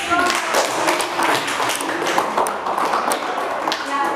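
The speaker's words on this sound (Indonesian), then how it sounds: "kita kasih aplaus dulu untuk" A classroom group applauds after a group presentation, with a few seconds of quick, dense clapping from many hands close by and a voice talking over it.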